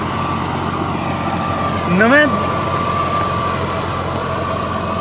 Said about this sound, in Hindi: ये 7 फाला भी जनाब अलगाजी ट्रैक्टर खिंचिया जनाब